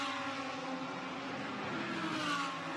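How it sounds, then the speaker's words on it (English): Ferrari GT race car at Fuji Speedway roaring steadily along the start-finish straight, a loud sustained engine drone close by for the whole moment, with no talk over it. "There it is, lights ablaze, coming down the start-finish straight"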